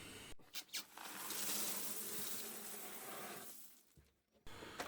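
A concrete mixer churns a bucketful of cement-sand mortar, giving a steady, fairly faint whirring rumble with a few brief knocks near the start and a short break near the end.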